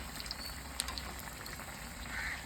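Plantain bajji deep-frying in hot oil, beach-stall style, gives a quiet continuous bubbling sizzle with small crackles and pops, no talk over it.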